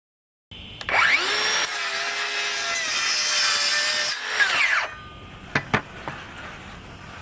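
A DeWALT DCS573 cordless circular saw with a FlexVolt battery spins up to a loud, steady high whine as it cuts through wood for about four seconds, then winds down, followed by a few sharp clicks.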